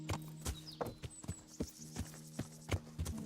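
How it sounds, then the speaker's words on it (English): Horse hooves clip-clop at a steady trotting rhythm in the medieval video game Kingdom Come Deliverance, fairly quiet and evenly spaced, with faint ambient tones behind them. "O cavalo vacilar vai parar lá embaixo. Deslizando."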